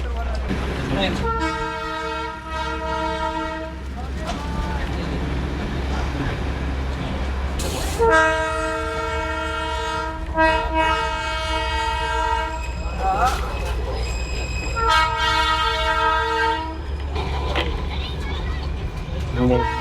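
The Darjeeling toy train sounds repeated loud horn toots in several separate blasts as it reverses to change track, over a constant low rumble of the train, with people talking nearby.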